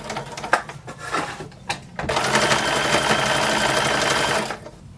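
A 1930s sewing machine stitches fabric for a vintage handkerchief apron, starting with a few short bursts and then running in a steady, close whirring clatter for about two seconds before it stops.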